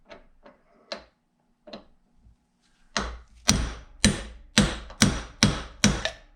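A bearing race is hammered into a boat trailer hub held on a vise, first a few light scattered taps, then seven loud, evenly spaced metallic blows with no talk.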